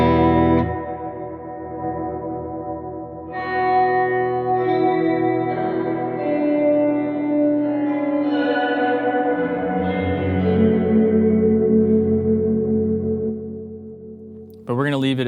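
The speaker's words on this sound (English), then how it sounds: "As you might expect, time controls the size or the decay time of the reverb." A Chroma Console pedal plays reverb with the time control turned fully up. Sustained tones swell into a long, washing decay, and new notes layer over the lingering tails before a brief cutoff at the end.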